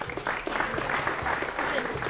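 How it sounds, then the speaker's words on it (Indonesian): A school gathering at SMA Negeri 9 Palembang breaks into brief, fairly quiet audience clapping, uneven hand claps mixed with murmuring voices throughout. "Tepuk tangan Bapak Ibu."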